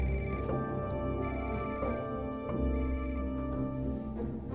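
A telephone rings out as a call is placed, a repeating electronic ring tone with steady pulses over a low background hum.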